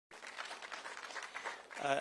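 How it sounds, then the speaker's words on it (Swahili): Audience at a public participation meeting on the sale of Safaricom shares at KICC in Nairobi applauding its leaders, a sustained, moderately distant round of clapping with a voice rising near the end. "tuwapigie makofi hawa viongozi wetu"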